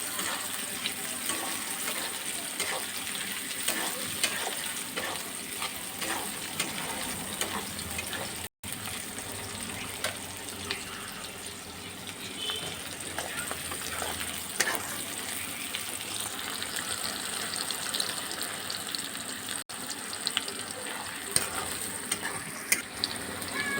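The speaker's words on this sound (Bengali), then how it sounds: "পেঁয়াজটাকে একটু ভেজে নেব লাল লাল করে" Onions fry in a pan with a continuous soft sizzle and crackle, moderately close, joined by intermittent stirring scrapes of a spoon against the pan.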